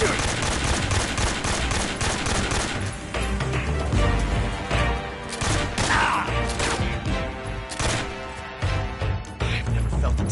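Heavy gunfire in Metal Gear Solid 3, dense machine-gun bursts and single shots with crashing impacts, loud and continuous, mixed with shouting voices.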